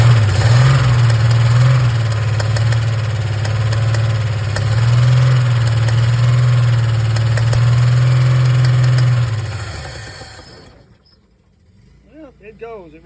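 A Chevrolet 292 inline-six, run without a radiator, fires up and idles with a loud, steady throbbing drone, its pitch shifting slightly before it cuts out abruptly and leaves quiet with faint sounds afterward.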